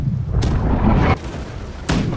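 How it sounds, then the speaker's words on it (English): Ship cannons fire in the naval game Blackwake, heard as two heavy booms about 1.5 seconds apart over constant low rumbling background noise. "Right side cannon fire, 300 meters."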